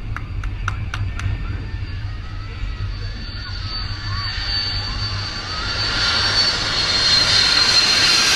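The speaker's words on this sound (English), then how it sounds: "That's what happened as it landed. The plane flipped over." A small plane's engine drones steadily during a landing that ends in a crash, the roar swelling louder toward the end, with faint voices and a few sharp clicks early on.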